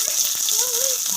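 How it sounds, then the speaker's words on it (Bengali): Chopped onions go into hot oil left over from frying fish, giving a soft steady sizzle with faint bubbling and a few brief tonal squeaks from the pan. "এবার মাছ ভাজার তেলে আমি দেখো পেঁয়াজ কুচিগুলো দিয়ে দিচ্ছি"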